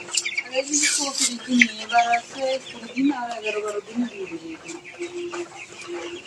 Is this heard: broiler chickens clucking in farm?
yes